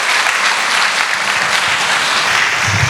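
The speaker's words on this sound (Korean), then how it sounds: "큰 박수 주시면 밴드부 나오도록 하겠습니다" A school audience at a high school admissions briefing gives a steady, loud round of applause as the student band comes on stage, continuous throughout with a faint low voice near the end.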